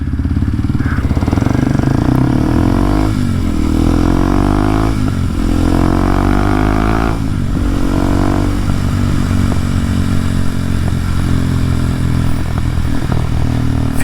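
Riding a Kawasaki KLX 230SM single-cylinder motorcycle fitted with a taller tire: a loud, close engine drone throughout, with pitch rising and falling through gear changes and throttle shifts.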